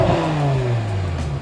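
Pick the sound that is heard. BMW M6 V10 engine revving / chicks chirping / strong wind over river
BMW M6 V10 engine revving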